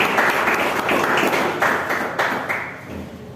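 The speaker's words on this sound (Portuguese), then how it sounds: "Vamos receber o nosso irmão com palmas que exaltam o Senhor." A church congregation claps together during a deliverance service, a fairly close, lively patter of hands with uneven bursts and a brief lull.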